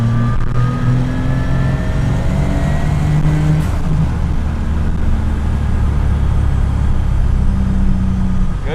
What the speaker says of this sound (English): The rear end is whining, the trans is whining.